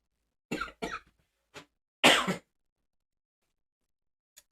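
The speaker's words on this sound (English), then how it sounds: "This cough I've had." A few sharp coughs up close, two quick ones, a lighter one, then a harsher double cough, with silence between and a tiny sound at the end.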